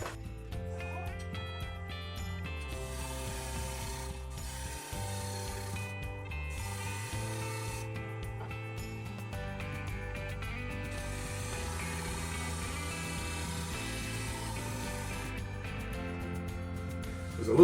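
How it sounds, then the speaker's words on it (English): A wood lathe spins a pentagon-shaped bowl while a spindle gouge cuts, giving a steady mechanical hum with tonal whine and intermittent chattering bursts of the tool against the wood, continuous throughout. "I'm going to try that with the spindle gouge."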